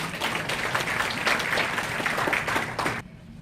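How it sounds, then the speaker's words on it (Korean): An audience claps at a March 1st Independence Movement Day commemoration ceremony in Ansan, a dense, steady round of applause that cuts off abruptly near the end. "큰 박수 부탁드립니다."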